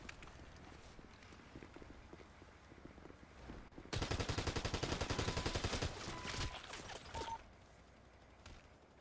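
Rapid burst of automatic gunfire in GTA, a loud dense rattle of shots lasting a few seconds amid quieter game ambience, followed by a few scattered sounds.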